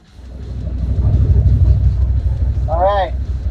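A powersports vehicle's engine drones in a low, steady rumble while driving, loud and close, with a brief whistle-like tone near the end.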